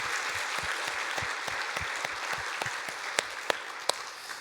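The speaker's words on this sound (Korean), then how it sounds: "뜨겁게 한번 박수하도록 하겠습니다." Church congregation at a Sunday service claps warmly to welcome newcomers, a steady wash of applause with a few sharp, close claps standing out toward the end.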